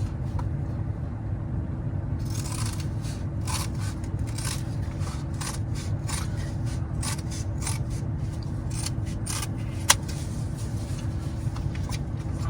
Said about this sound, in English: So I'm gonna cut it in half.